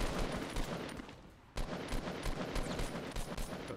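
Gunfire in Fortnite Battle Royale, rapid loud bursts of automatic shots close by, with a brief lull before a sharp resumption of the firing.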